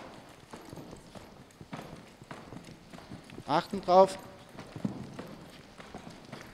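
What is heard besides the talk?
horse hooves during a spin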